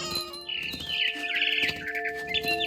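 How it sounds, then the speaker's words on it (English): A mama bird in the video game What Remains of Edith Finch chirps and trills in bright, rising and falling calls, repeated over a soft, steady musical drone. "All I cared about was eating that mama bird."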